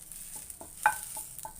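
Idli podi ingredients dry roasting in a pan, with soft intermittent scrapes and light rustles of stirring at a quiet, close level, no talk.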